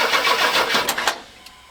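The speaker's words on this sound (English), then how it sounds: "it started cranking it and then it died" Car engine cranking with help from a JFEGWO CS02-PRO 8250A jump starter, a loud rhythmic churning of the starter for about a second that then stops abruptly and fades as the engine dies.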